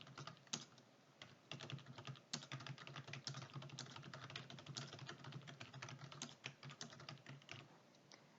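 Rapid, steady keystrokes on a computer keyboard while entering text into a word processor, close and continuous with no talking.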